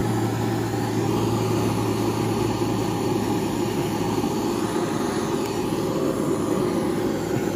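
A flame gun torch used for brazing brass burns with a steady, loud roaring hiss, close by and unbroken throughout.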